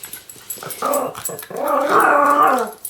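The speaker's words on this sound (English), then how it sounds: "Buckles, howl" A dog howls on command, opening with a few short yips and growly vocal bursts, then rising into one long, loud, sustained howl close by, with no talking during the sound.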